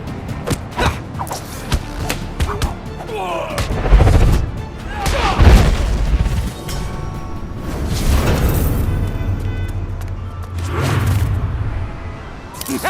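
Sniper gunfire in The Amazing Spider-Man 2 video game, with several heavy booming shots and thuds in a busy game mix, and speech from game characters in between.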